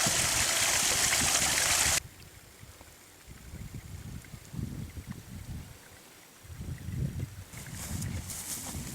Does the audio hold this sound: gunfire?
no